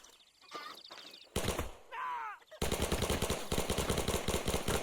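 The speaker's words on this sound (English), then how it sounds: "Tommy gun right there." Tommy gun firing in the World War II game Men of War II, Normandy 1944, starting with a short burst and then a long, loud, rapid stream of automatic fire, with other game sounds in between.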